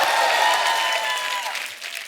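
A studio audience at a comedy show breaks into loud, dense applause for a Kishore Kumar tribute, a continuous roar of clapping that tapers slightly over two seconds.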